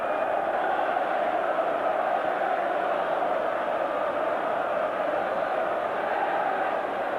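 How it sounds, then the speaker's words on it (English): Manchester United supporters at a Nottingham Forest ground applaud a penalty goal after 14 minutes, a steady, distant wash of crowd noise and clapping that holds without a break. "Manchester United supporters applaud the goal after 14 minutes"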